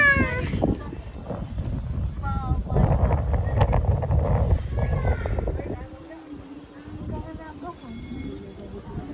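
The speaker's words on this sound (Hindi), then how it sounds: "क्या हवा चल रही है। क्या हवा।" Strong wind buffets outdoors, a steady low rumble and gusting across the microphone, while people talk over it before it eases to a quieter breeze.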